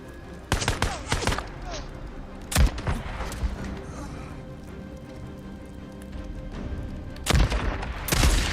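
Gunfire in the video game Days Gone: a few sharp shots ring out near the start, around the two-and-a-half-second mark and again near the end, set against a busy game soundscape.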